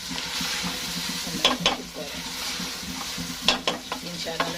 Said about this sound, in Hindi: अब ये फ्राई हो गए आलू। अब आलू डालते हैं इसमें